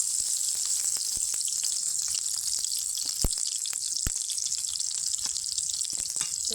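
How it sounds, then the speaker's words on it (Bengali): Onion, garlic and green chili sizzling in hot oil in a kadai, a dense continuous hiss punctuated by sharp pops and crackles, close and fairly loud with no voices. "এখন পেঁয়াজ, রসুন, কাঁচামরিচটা ঢেলে দিব।"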